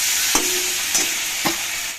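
Dried red chillies and whole spices temper in hot oil, a steady close sizzle broken by three spaced stirring scrapes before cutting off abruptly, with no voices.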